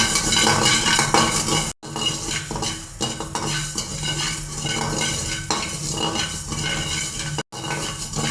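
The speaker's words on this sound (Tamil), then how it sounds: "வெந்தயத்தை நம்ம நல்லா வறுத்து எடுத்துட்டுங்க." Fenugreek seeds dry-roasting in a pan for chicken masala powder, stirred steadily with a utensil that scrapes and clinks against the metal under a faint sizzle, close and continuous with no talking.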